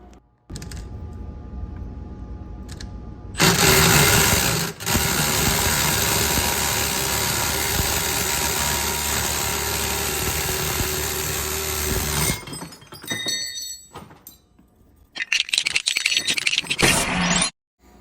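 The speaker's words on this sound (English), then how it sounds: "pulling the truck water pump pulley off the truck water pump to throw it on the other one" A gear puller works a water pump pulley off the engine of a 1967 C-10 truck, making a loud, continuous mechanical drone for about nine seconds, then shorter bursts of noise with pauses between them.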